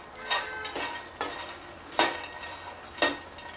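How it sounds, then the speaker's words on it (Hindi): Fox nuts (makhana) roast gently in a pan over low flame, stirred in regular scraping strokes about once a second over a soft, continuous sizzle, close up and with no voices. "थोड़ी गैस धीरे कर दी है मैंने, ताकि ये जले नहीं, और हल्का हल्का इस तरह से पहले फ्राई कर देंगे"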